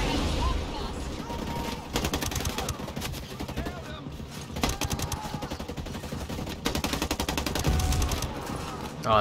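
Bursts of rapid gunfire and booming blasts from a firefight in Ghost Recon Breakpoint, dense and loud, repeating in several volleys with a voice speaking intermittently.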